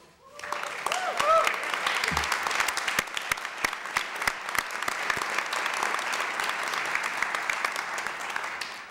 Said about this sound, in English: Please stand up and be applauded as well.